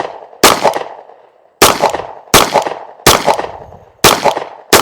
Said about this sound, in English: So we're going to shoot 10 rounds